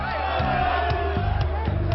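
Large crowd of FC Porto football fans gathered in a Portuguese-populated part of Switzerland, a dense, steady roar of many voices with scattered whoops and shouts rising above the continuous din.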